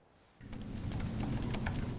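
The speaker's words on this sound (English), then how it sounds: "Only the sounds of a keyboard fill a rather quiet student government office on a Saturday." Keys clatter on a computer keyboard in a quiet student government office, a soft, irregular run of close taps over low room hum, with no voices.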